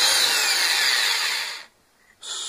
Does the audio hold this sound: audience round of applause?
no